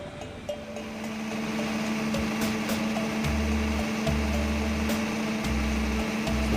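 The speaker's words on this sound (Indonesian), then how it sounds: "Setelah genset kita hidupkan, kita tunggu sekitar 5 menit untuk dia warming up." A diesel generator set warms up after starting, giving a steady droning hum with a fixed low tone, mechanical whine and intermittent low thumping pulses, close and continuous with no speech.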